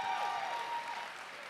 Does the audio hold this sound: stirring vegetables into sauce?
no